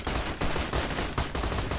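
A small machine gun mounted on the front of a vehicle in the shooter game Borderlands 2 fires rapid, loud bursts of shots, with short gaps between volleys.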